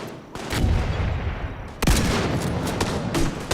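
Rapid gunfire in the Just Cause 4 video game, a dense run of shots with a brief pause midway and then another loud burst, with booming impacts throughout.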